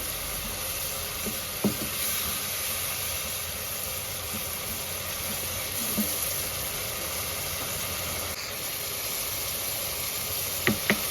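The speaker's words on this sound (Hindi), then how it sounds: "अभी मसाले को जो है हम अच्छा सा भूनेंगे" Cumin and other spices roasting in oil in a pan for gobi aloo, steady soft sizzle with occasional stirring clinks of a spoon against the pan, no talk.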